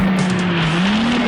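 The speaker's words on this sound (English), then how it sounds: "Most of those awesome engine sounds and tire squeals you heard when the Coyote X was tearing through Los Angeles" A Coyote X sports car's dubbed engine roar holds one steady droning pitch that sags and climbs slightly, with a faint tire squeal layered over it, loud and continuous throughout.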